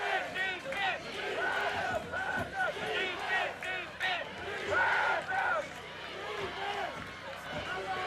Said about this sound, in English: You can hear the Washington County crowd in front of us yelling defense.